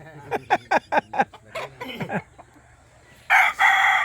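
A rooster on a farm crows in a close, loud series of rapid staccato calls, followed by a pause and another brief burst of crowing.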